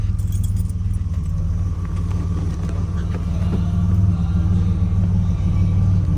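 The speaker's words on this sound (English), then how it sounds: "Let's try your hazards." Hazard lights on a 1989 Pontiac Turbo Firebird Trans Am ticking in an even, repeating rhythm over the steady low rumble of the idling engine, with no talk.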